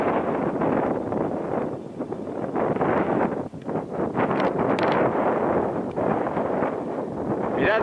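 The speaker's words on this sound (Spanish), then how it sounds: "Aquí es que está soplando el aire." Strong wind buffets the microphone on a high ridge of the Sierra de Ascoy above a reservoir, producing loud continuous roaring gusts that swell and dip, with no voices heard.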